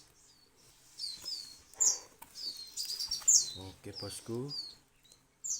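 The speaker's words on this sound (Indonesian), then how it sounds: "Baru pertama saya lihat ini bosku burungnya, burung gagak sebesar ini ternyata anaknya ya." Young crows, unusually large chicks, give high chirping calls in short bursts close by, mixed with someone talking over them.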